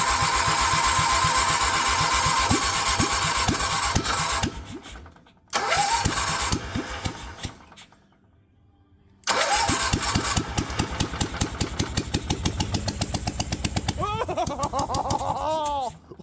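A 1971 Cushman Truckster engine cranks repeatedly in steady pulses, pauses, tries again, then after a longer gap cranks on at length, loud and close, with a brief whine near the end and no start.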